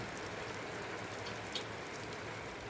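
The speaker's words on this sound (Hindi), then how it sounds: "बारिश ने तैयारियों को थोड़ी देर के लिए रोक दिया है।" Steady mountain rain in Uttarakhand hisses softly and evenly, a faint continuous patter with no talk.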